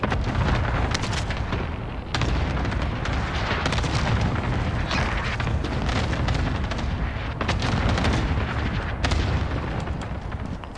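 Cluster strike explosions in a video game, a dense barrage of booming blasts and rumbling detonations that rolls on continuously at high level, with a few sharper bursts standing out.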